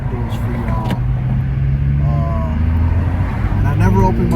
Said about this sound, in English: I just want you guys to hear this car